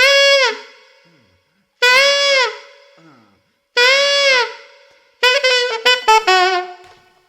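Saxophone playing a DJ-style house lick: three loud sustained wailing cries with bends, then a quicker run of short detached notes and scoops, performed solo and close.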